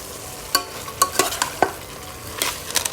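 Sliced bitter gourd (ampalaya) sizzles in a hot pan while a utensil stirs it. The scrapes are loud and irregular over a steady frying hiss, with no talking.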